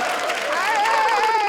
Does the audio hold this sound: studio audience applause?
yes